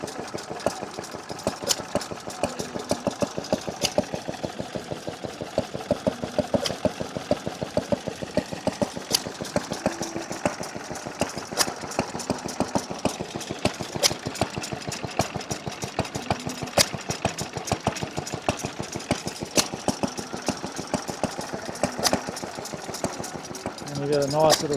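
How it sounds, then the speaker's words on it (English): A vintage vertical Callan Lewis 2.5 horsepower stationary engine, made in Melbourne, runs steadily at an outdoor engine rally, its close, even chuffing beat continuing alone without pause throughout. "This is a nice little vertical Callan Lewis engine."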